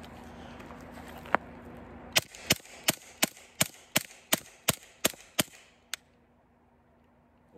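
A Hatsan Sortie .25 caliber air pistol fires a magazine of JSB Kings pellets: after one earlier shot, about ten sharp, evenly spaced cracks ring out in quick succession, close and crisp, and then the firing stops.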